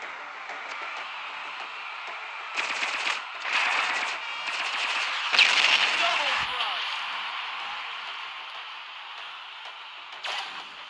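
An enemy in a video game fires rapid bursts of gunfire in several clusters over a steady mechanical hum, with quieter stretches between the volleys.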